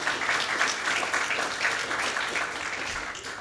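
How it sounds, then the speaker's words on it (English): A crowd applauds steadily, a continuous wash of clapping that gradually fades slightly toward the end. "Let's give Joanne Simon a round of applause."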